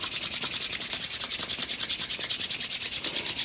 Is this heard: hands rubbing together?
yes